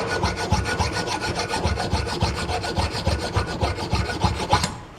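Rust being scrubbed off the rear brake caliper bracket of a Chevy Trax, a steady rapid rasping stroke repeated over and over for several seconds, close and fairly loud, with no talking.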